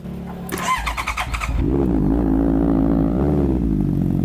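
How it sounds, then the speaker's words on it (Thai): A 2018 Honda CBR650F with an SC slip-on exhaust cranks and starts after some starter whirring, then settles into a loud, steady idle close by, rising slightly once in a light blip. "ท่อเดินสลิปออนมาเป็น SC นะครับผม คันนี้ มาเดี๋ยวเรามาฟังเสียงกัน"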